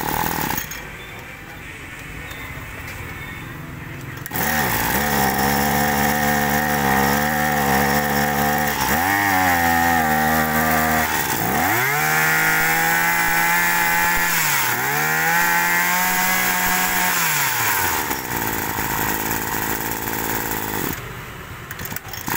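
A Japanese Maruyama 20cc grass trimmer engine idles quietly, then revs up loud and close in a steady high buzz with several throttle swells and dips before settling back to a low idle near the end.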